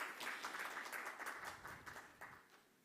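Conference audience applauding for an invited CEO at an internet event in Dubai: a steady, fairly faint wash of many hands clapping, with a few sharper claps standing out and fading near the end.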